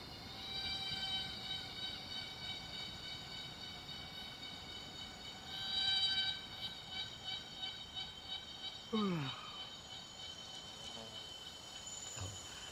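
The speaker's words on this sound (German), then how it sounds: "höre ein bisschen den Zikaden zu" Cicadas drone in a steady, high-pitched buzz that swells and fades slightly, with voices and a few brief clattering noises mixed in.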